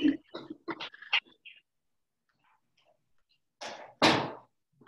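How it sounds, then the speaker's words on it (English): An indoor door is pushed shut with two short knocks close together, the second louder as the door closes into its frame, after a speaking voice and a pause of near silence. "So I'm going to close the door."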